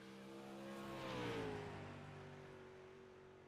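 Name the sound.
sprint race car heading out onto the racetrack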